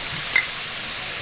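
Prawns sizzle in a pan with olive oil and soy sauce, a steady broadband frying hiss with a brief stir or clatter near the start, close and alone without talk.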